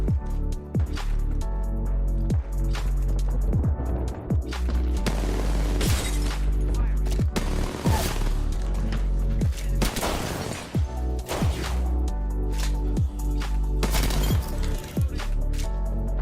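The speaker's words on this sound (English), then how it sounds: "Grenade." Explosions and gunfire in the video game Apex Legends, with a dense, continuous roar of heavy booms and sharp impacts repeating throughout, including a grenade blast.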